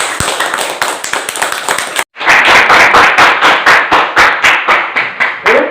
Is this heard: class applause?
yes